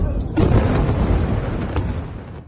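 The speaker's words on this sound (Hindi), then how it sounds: "किस तरह का धमाका होता है दोस्तों" An explosion from an Iranian missile attack in Tel Aviv: a sudden loud boom bursts out of a low background hiss, then a rough, crackling roar that slowly fades away.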